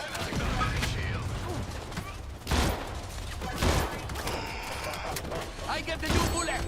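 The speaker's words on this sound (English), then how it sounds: "Who's shooting me?" Rapid bursts of gunfire in a shooting video game, a dense fusillade with several sharp louder shots standing out over a steady clatter of background game noise.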